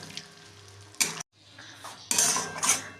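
Chicken dropped into a pan of hot oil while cooking dhaniya chicken, bringing a sudden burst of sizzling and frying hiss with metallic clinks of pan and utensil, close and loud, and no talking.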